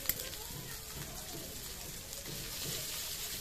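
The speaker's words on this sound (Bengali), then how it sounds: "এবার দিদি এর মধ্যে নুন হলুদ মাখানো মাছগুলোকে দিয়ে দিচ্ছে।" Loitta fish coated in salt and turmeric are dropped into hot oil with frying onion-garlic masala, giving a steady, faint, hissing sizzle that runs throughout with low background murmur.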